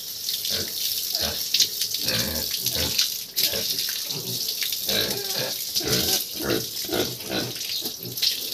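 Water runs steadily from a tap while a pig is bathed, a continuous splashing hiss close by, with occasional grunts and faint talk mixed in.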